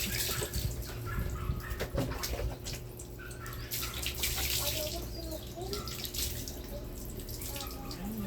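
Tap water runs steadily into a tub while a small white dog named Whitey is bathed, with splashing and drips throughout and a person's voice speaking briefly near the start.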